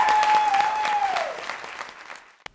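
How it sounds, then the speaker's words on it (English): Audience applause for a panel at an evening event, loud sustained clapping that fades over a couple of seconds, with a steady tone running beneath at first. "please give a round of applause to our panelists"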